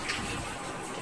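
Tap water runs into a cooking pot being filled to boil pasta, a faint, steady gush with no voices.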